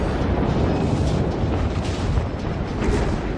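A naval battle game: an enemy ship fires a broadside at close range, a loud, continuous rumbling roar of cannon blasts for several seconds, with no talk.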